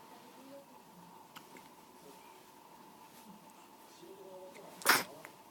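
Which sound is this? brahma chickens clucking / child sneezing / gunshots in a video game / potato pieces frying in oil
child sneezing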